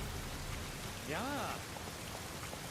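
Rain falls in the video game Dynasty Warriors 9, a steady hissing wash heard throughout at low volume, with a brief tonal voice-like sound rising and falling in the middle.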